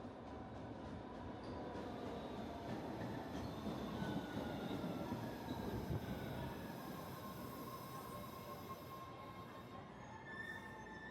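A Boston subway train rolls into a station with a steady rumble and rising, drawn-out wheel squeals, loud and close throughout.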